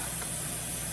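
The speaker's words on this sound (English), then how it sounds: "I do also have air assist, which is off to the corner, so that's that hissing noise you can hear." A steady, even hiss of a laser cutter's air assist runs continuously and fairly quietly, with a faint low hum beneath it and no other sounds.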